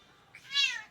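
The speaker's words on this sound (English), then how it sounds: "You can hear my cat in the background." A domestic cat meows once in the background, a single rising-and-falling call of moderate, somewhat distant loudness with no talking over it.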